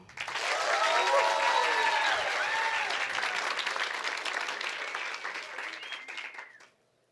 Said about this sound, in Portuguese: Agora, um aplauso do conseguiu.